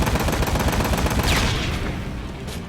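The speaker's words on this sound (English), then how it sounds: "this gun actually shoots explosive tipped bullets." Rapid, dense automatic gunfire from a gun firing explosive-tipped bullets in Ride To Hell: Retribution, a loud continuous rattle of shots blending into booming impacts that trail off toward the end.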